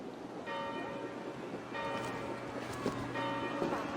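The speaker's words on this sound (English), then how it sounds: "Do you not hear the bells?" Church bells toll in the Assassin's Creed Valhalla game, three separate ringing strikes spaced about every second and a half, each with a long shimmering tail over a low wind-like ambient bed.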